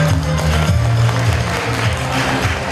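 Wedding guests give a loud, sustained round of applause, a dense patter of many hands with a low musical hum underneath and no speech.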